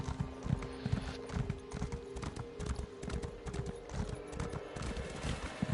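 Rhythmic clip-clop of a slow horse's hooves trotting along in the Elder Scrolls Online, the steady galloping beats continuing close and even throughout with no talk.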